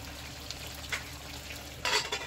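Stuffed brinjals fry in oil in a pan for a Maharashtrian bharli vangi, giving a soft, steady sizzle with a few light stirring sounds and a louder burst of frying near the end.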